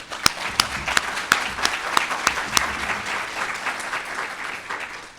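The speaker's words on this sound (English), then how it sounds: "Let's give them a round of applause for their accomplishment" A ceremony audience applauding graduates at a CPO BRC 605 graduation, a lively round of clapping with sharp individual claps standing out near the microphone, sustained for several seconds before easing slightly.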